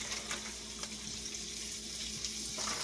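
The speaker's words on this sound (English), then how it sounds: "Start adding the sausages." Sausages hitting hot bacon grease in a pan, a steady close sizzle with faint crackles running the full few seconds without pause.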